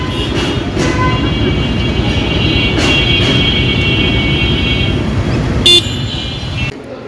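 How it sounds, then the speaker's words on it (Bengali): A long train passes close by in Kishoreganj with a loud, continuous rolling roar and rail clatter, and a horn tone sounds over it, with faint road traffic nearby. "অনেক বড় ট্রেন কিশোরগঞ্জের"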